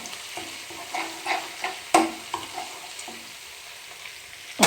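Curry leaves frying in a pan for a kingfish masala fry, giving a steady oily sizzle broken by scattered sharp pops and spatters. A louder crackle lands near the middle and another at the end. No one speaks.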